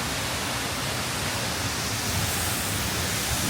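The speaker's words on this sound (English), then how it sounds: "Here's the waterfall. We're almost behind it." Waterfall at Silver Falls State Park, Oregon, roaring as a steady, dense broadband rush heard up close with no voices.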